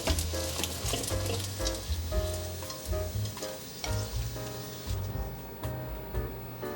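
Taro slices pan-frying until golden give off a continuous bright sizzle in hot oil, with frequent crackles and spatters and occasional clinks from a pan or utensil.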